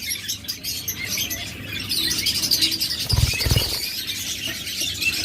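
Pet budgerigars or lovebirds kept in pairs at a bird seller's cages chirp and tweet steadily in a busy twittering chorus, with a couple of short low thumps midway.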